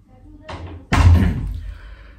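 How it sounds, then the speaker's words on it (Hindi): A door is swung shut at home, a lighter bump followed by a heavy, resonant slam that rings out briefly before fading. "दरवाजा बंद कर दो बेटा"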